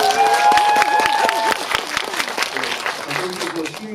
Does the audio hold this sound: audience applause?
yes